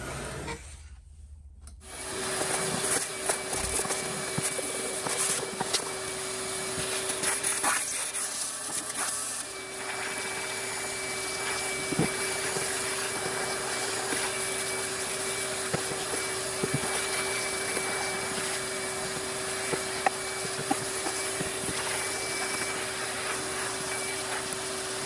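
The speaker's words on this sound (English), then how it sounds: "I guess I'll probably hit this with the vac." A vacuum cleaner runs steadily for about 25 seconds while cleaning a 1935 Philco cathedral radio. After a brief quiet start it settles into a constant whine with a strong steady tone, and small knocks and rubs of the nozzle sit over it.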